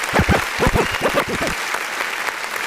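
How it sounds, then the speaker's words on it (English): An audience claps during a live online music review and feedback show for underground artists. The applause is fairly loud and close, with tonal, music-like sounds in the first half before it settles into a steadier wash. "Let's go ahead and give a round of applause."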